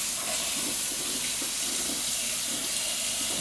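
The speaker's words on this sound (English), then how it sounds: "I'm going to be adding approximately 1 inch of water into the bottom of this" Tap water pours steadily into a pot of chopped squash and butter, a continuous loud hissing rush that holds unchanged throughout with no voices.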